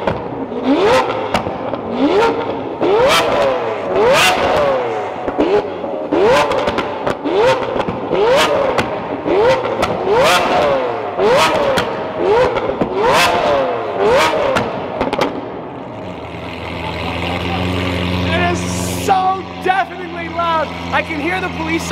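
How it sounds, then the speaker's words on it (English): A Lamborghini Aventador V12 with an Fi aftermarket exhaust revs hard in a garage, a rapid string of loud, sharp throttle blips for about fifteen seconds before settling into a rumbling, crackling idle. "The sound of this V12 with the FI exhaust, it like penetrates through your soul."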